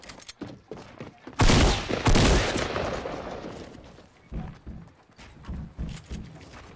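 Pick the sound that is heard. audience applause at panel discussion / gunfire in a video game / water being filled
gunfire in a video game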